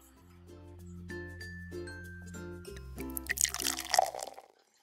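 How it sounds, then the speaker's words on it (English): Vinegar poured from a container into an empty bottle for a kids' balloon science experiment, giving a rising liquid gurgle with glassy ringing tones that swells and splashes louder near the end before stopping. "let's pour in some vinegar"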